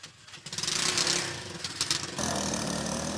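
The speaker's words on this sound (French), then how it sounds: "Sur sa moto tricycle" A motorized tricycle's small engine runs nearby, a buzzing, revving motor that rises and dips before settling into a steady loud drone.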